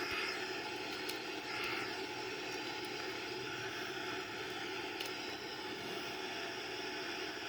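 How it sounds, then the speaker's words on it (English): Steady, broadband roar of Boeing 787 engines at maximum takeoff thrust, a constant loud rushing hum lasting throughout with no breaks or voices. "We have maximum takeoff thrust right now."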